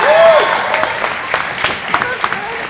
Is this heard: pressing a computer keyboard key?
no